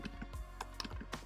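Quiet clicking of a computer keyboard being typed on, a few irregular keystrokes close by with no talk over them.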